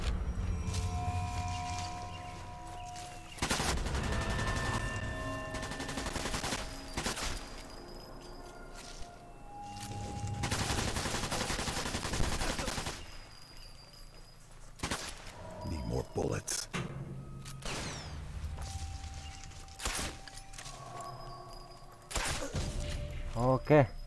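Gunfire in the video game Sniper Elite 4 comes in several loud bursts and single cracks scattered through the scene, with a player talking over it in between.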